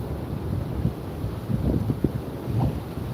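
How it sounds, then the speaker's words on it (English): Wind blowing outdoors on a blustery day, a steady low rumble buffeting the microphone with gusts swelling and easing throughout, and no voices. "it's really windy out."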